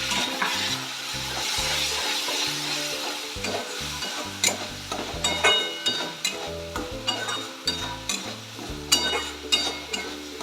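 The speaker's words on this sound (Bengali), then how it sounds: "টমেটো সঙ্গে কষে নেব" Masala with tomato and a splash of water sautés in a pan for a Bengali cauliflower dish, a continuous sizzle broken by regular, rhythmic scraping strokes of a spoon stirring close up.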